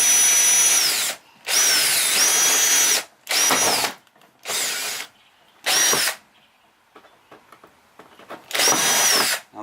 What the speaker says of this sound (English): if you have your drill bit out too far, there's only so much room in between this and the outer skin